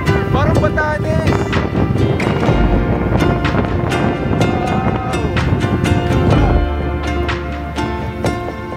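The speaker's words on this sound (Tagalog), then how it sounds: "sobrang lakas ng hangin." Strong wind roars across the microphone high on Mt Sembrano, a loud buffeting rush that gusts and dips, with a voice speaking faintly beneath it.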